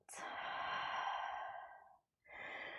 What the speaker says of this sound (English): Full breath in, and a full breath out.